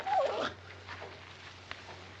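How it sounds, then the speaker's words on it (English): A dog gives one brief whimper near the start, fairly close, and then goes quiet over a low steady hum with faint shuffling sounds. "If you ain't the beatin'est dang dog I ever seen."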